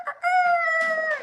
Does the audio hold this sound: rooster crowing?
yes